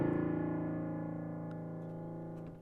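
A single very low, deep piano note, the lowest of the piano's 88 keys, rings out and slowly decays, its rumbling tone sustained for a couple of seconds.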